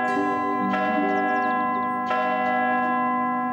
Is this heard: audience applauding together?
no